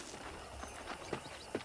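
Horse hooves clip-clop on a ranch in the video game Red Dead Redemption, a few soft, uneven footfalls close by over a low ambient bed.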